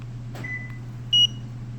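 Kia Sedona 2020 minivan locking: one short bright beep near the end, preceded by a faint tone, over a steady low hum with no talking.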